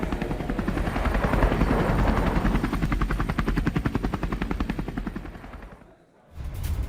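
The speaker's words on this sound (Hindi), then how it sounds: "रूसी सेना ने Mi-28 अटैक हेलीकॉप्टर से निशाना बनाया।" A Mi-28 attack helicopter strikes army vehicles, its rotor thumping in a loud, steady rapid pulse that fades briefly near the end and then returns. Bursts that could be gunfire may be mixed in.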